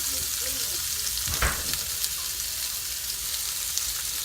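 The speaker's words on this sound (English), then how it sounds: "now I'm going to pop in some onions" Onions dropped into a hot pan for chicken fajitas hiss into a loud, close, continuous sizzle, with a sharp burst as they hit the oil and steady crackling afterward, no talking.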